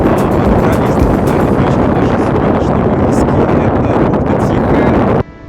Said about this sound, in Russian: по берегу тут часто ходят довольно сильные ветра